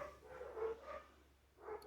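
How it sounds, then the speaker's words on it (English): Several dogs bark in a short burst of four muffled yaps from another room, moderately faint and spaced unevenly in a quiet indoor space. "my dogs have been very barky today, so if you hear them, I do apologize."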